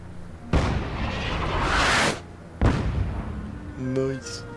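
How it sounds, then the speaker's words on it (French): Two loud gunshot blasts from the video game Fallout 76, each booming and then decaying over roughly a second and a half, followed by a short, faint tonal game effect. "Ça tire!"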